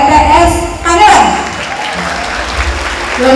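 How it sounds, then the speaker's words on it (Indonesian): Applause from an audience at a leadership event in Tangerang, broken clapping mixed with loud music and voices, fairly close and loud throughout. "Dan juga tolong beri tepuk tangan untuk rekan-rekan panitia RTS Tangerang."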